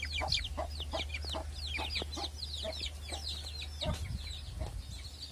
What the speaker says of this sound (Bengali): দেখ এগুলো দেশি মুরগির বাচ্চা সব